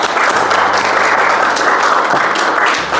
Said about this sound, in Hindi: तालियां बजा दीजिए।